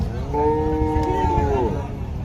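A cow lows once at a rural cattle market, a long, close, moaning call over a low murmur of the crowd.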